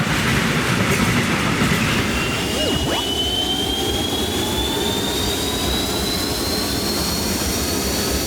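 A high-speed train roars past, a loud steady rush with rising whine and rail clatter that stays strong throughout, with no talk.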